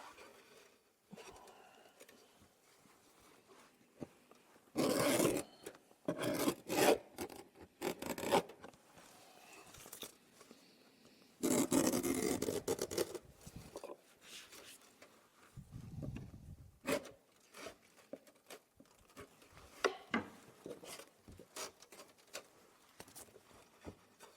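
Net mesh for a beehive inner door being cut out along a template, heard as irregular bursts of close scratchy snipping and rustling separated by quieter handling noises, with no voices.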